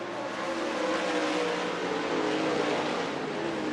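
Race cars roar around a dirt track at an early-season night race, a continuous loud engine drone rising and falling as the field circles, with no voices heard.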